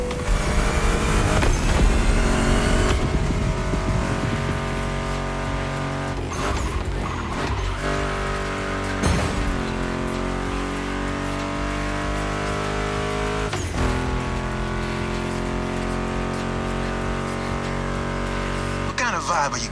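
Muscle car engines in The Crew Motorfest video game, including a Mustang GT, roar and rev continuously, with some tire squeal, all blended with loud guitar-driven music.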